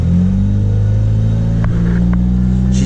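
A car engine suspected of rod knock runs loud and close, a steady low rumble and hum with slight rhythmic pulsing, heard alone without talking.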